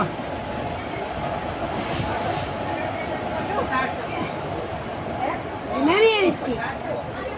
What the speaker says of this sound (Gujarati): જો હમણાં રેલગાડી જાય છે